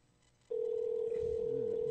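A telephone line tone on a radio show call switches on abruptly and holds as a loud, steady single pitch, with faint low murmuring underneath.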